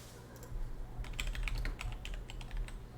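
Rapid clicking on a computer keyboard while searching items in Path of Building for Path of Exile, a quiet run of keystrokes that starts after a pause and continues steadily, with a faint hum underneath.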